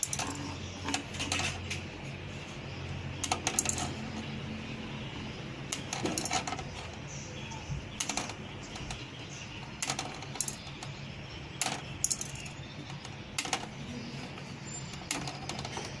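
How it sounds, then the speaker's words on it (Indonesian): Scissors snipping through a handmade silver square chain, link by link, giving repeated sharp metallic clicks and small pieces dropping at irregular intervals over a steady room hum, with no talk. "digunting ya guys, satu per satu ini"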